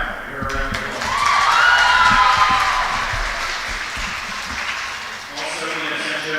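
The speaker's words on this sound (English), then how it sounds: "Give her a round of applause." A crowd applauds during a senior recognition ceremony at a girls' high school volleyball match in a gym, the clapping swelling then holding steady, with an announcer's voice over the PA near the start and end.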